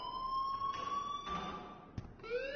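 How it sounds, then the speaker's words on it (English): An alarm rings in the video game Life is Strange, a steady electronic tone with sustained high harmonic lines, faint and continuous throughout, with brief clicks near the end. "please turn off that alarm since that's your job"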